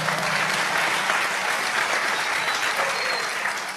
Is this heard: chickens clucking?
no